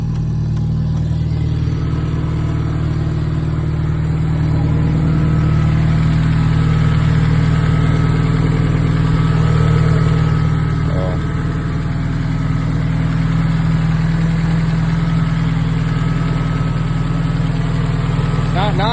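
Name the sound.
Nissan S14 engine idling with open downpipe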